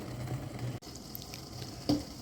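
Maple sap boils and foams in a pot in a backyard syrup setup, a soft steady bubbling sizzle with faint stirring, heard close and quiet with no talk.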